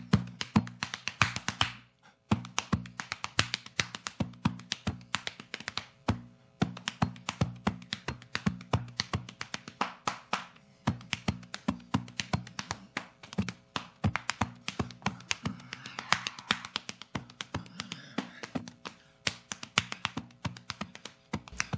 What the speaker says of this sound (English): a person is basically playing body percussion, making different sounds by playing on chest, belly, thighs,